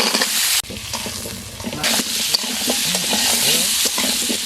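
Cut potatoes and chopped tiger prawns sauté loudly in hot oil in a pan with cumin, a strong, continuous sizzle broken by stirring scrapes, heard up close without speech.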